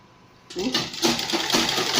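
A sewing machine starts stitching buba fabric at close range, running in a fast steady whir with a rhythmic needle clatter that continues without pause after a quiet start.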